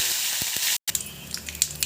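Mustard seeds, cumin, chana dal and urad dal sizzle in hot oil as a tempering for village-style green chili and tomato chutney: a steady bright hiss with light crackles, briefly cutting out, then resuming with scattered pops.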